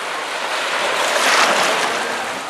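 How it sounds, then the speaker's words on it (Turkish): Rough sea waves of the Bay of Bengal surge and break on the busy beach at Cox's Bazar, giving a loud, continuous wash of surf with some wind noise. "Bengal körfezinde deniz sürekli dalgalı."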